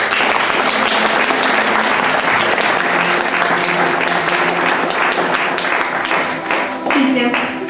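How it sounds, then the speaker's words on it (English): Loud, full applause from an audience at a grade nine farewell evening, a thick continuous wash of clapping that holds steady and only begins to taper in the final second. "So please give a warm applause to Isabella Carabat."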